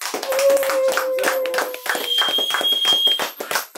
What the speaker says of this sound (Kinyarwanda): Ndajya mu bambera amashyi cyane